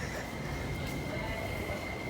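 Train arriving at Nam Cheong Station in Hong Kong, a steady rolling rumble with a sustained high wheel whine, moderately close and faint overall, with no talk.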